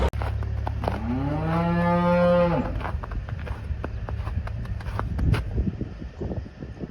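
Cattle on a farm in winter, with one long, loud moo up close followed by shuffling, footsteps and scattered knocks around the animals.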